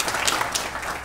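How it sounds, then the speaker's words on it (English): Audience applause for the panelists of a ministerial panel on digital innovation at a business forum in Tallinn: a brief, fairly quiet spell of crowd clapping with a few sharper individual claps standing out. "please give a round of applause to all the panelists."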